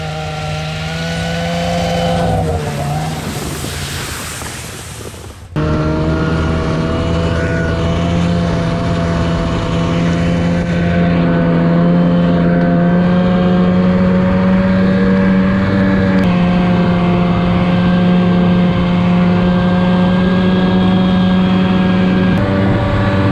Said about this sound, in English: Right now, I gotta get my truck off of the log road.